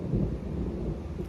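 Deep thunder rumbles steadily through a storm, a low continuous roll that fills the whole moment with no speech over it.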